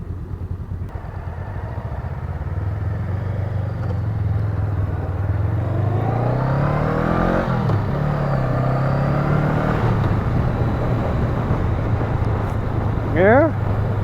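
A 2019 Honda Rebel CMX500 motorcycle engine runs close and loud, its rumble rising as revs climb and settle, with a brief voice near the end.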